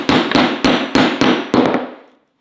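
A hammer striking a center punch into a wood board, six sharp, evenly spaced metallic taps, loud and close, with the last blows ringing off before silence.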